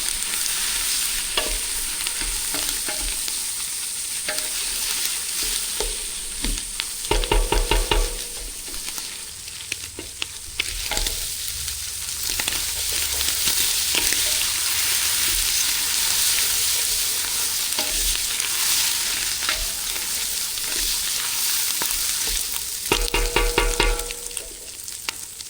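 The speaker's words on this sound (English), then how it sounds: "and the bacon. Continue to fry it." Bacon frying hard in a pan, a loud, continuous sizzle with bursts of scraping and stirring clatter that recur through the stretch, heard up close with no talking.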